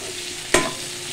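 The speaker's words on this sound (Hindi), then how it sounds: "इसको हम ये थोड़ा क्रिस्पी हो जाएगा तब तक इसको भून लेते हैं आलू को।" Boiled potato fries in a pan for sabudana khichdi, giving a steady bright sizzle broken by one quick scrape of a spatula stirring it midway, close and with no voices.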